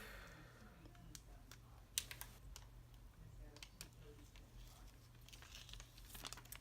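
Crinkly peeling and tearing of a charcoal face mask, a steady papery rustle with scattered sharp crackles throughout, quiet and close over a low hum.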